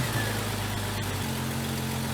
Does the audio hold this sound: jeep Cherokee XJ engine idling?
yes